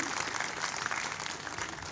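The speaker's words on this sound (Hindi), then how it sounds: "आप तालियों का साथ देंगे" Audience clapping at an International Yoga Day celebration in Meham, a steady dense patter across the whole moment, moderately loud, with no clear talk on top.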